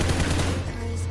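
Rapid automatic gunfire from a competitive shooting video game montage, a dense loud burst of shots that thins out toward the end over a steady low hum.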